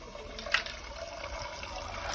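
Water poured from a glass into a cooking pot makes a soft, close, continuous gurgling splash that lasts about two seconds, with a brief louder spill near the start.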